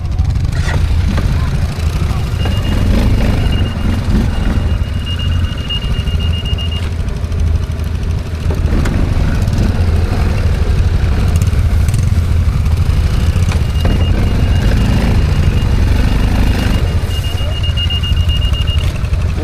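ATV quad bikes, a Linhai 550, BRP 1000, Yamaha Grizzly 700 and Honda Rincon, ride together, engines droning loudly and continuously up close, with brief squeals and clatter over rough ground.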